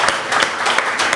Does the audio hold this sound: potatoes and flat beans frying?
no